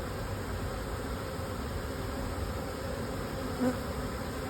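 Honeybees drone in an open hive while brood frames are inspected, a dense, even buzzing hum that fills the whole stretch at a steady level, close and uninterrupted, with no voices.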